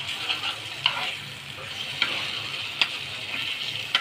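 Egg mixture sizzles steadily in a frying pan while a utensil scrapes and stirs it in several distinct, close strokes.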